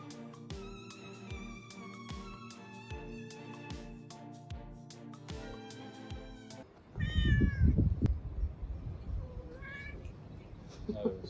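A cat among dumbbells during a home workout meows a few times, close and fairly clear, after several seconds of music, with other noise in the background.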